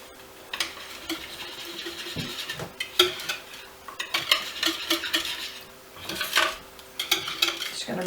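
Pumpkin puree is stirred into dinner roll dough in a bowl, a utensil scraping and clinking against the sides in uneven, close strokes with short pauses between bursts of mixing.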